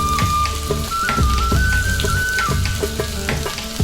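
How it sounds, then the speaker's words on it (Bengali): Chopped garlic, about fifteen cloves' worth, hits hot oil and sizzles loudly up close with a dense crackle, and a thin whistling tone drifts in the background. "তেল গরম হয়ে গেছে, এবার আমি দিয়ে দেবো রসুন কুচি।"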